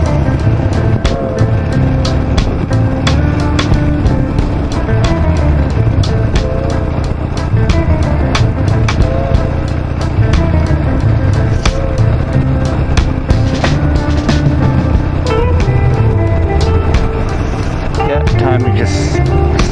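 A 17-year-old Harley Davidson Nightster motorcycle on the road, its engine rumble mixed with constant wind roar, loud and unbroken throughout while a rider's voice talks over it.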